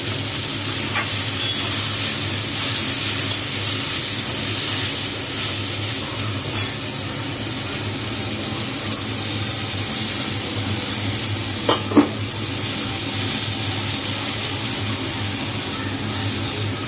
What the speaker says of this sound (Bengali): দেখো, এবার এটা লাল লাল করে ভেজে নেবো।